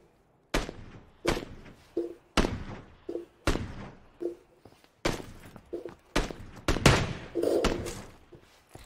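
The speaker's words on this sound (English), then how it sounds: "Don't fire too many shots." Gunshots ring out in a squad-based video game, about a dozen loud individual cracks spaced irregularly, each with a short echoing tail. Soft voices are heard in the gaps between shots.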